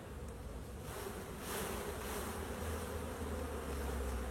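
Honey bees swarm in a steady, dense buzz around a brood frame lifted from a hive during preparation for wintering; the droning is close and continuous, with no voices.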